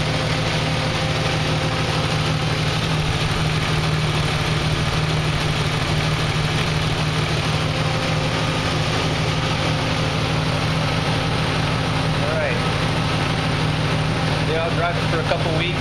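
Jeep Wrangler 4.0 engine fitted with a new 68mm throttle body idles steadily with a low, even rumble and slight vibration, close and continuous throughout.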